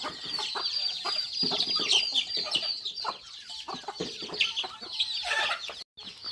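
A flock of chickens clucks and squawks busily nearby, overlapping calls filling the air continuously.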